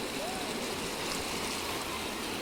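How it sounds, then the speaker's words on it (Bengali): Floodwater rushes through a small culvert during a flash flood in Moulvibazar, Bangladesh, a steady broadband roar that continues without a break. "এই যে পানির শব্দ শুনতে পাররা আপনারা"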